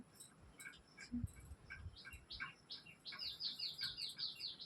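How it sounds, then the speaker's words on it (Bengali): Several birds chirp and tweet outdoors, short bright calls scattered at first and then a steadier run of quick repeated notes, moderately close, with no talking. "ওটা খুব পাখিতে ডাকে পুরো পুরো উপরে পাখিতে যাচ্ছে"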